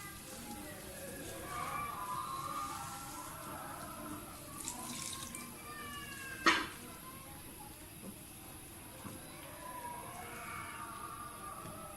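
Water is poured steadily into a pan of potato gravy for aloo bhujia, a continuous splashing trickle lasting several seconds, with a voice speaking over it.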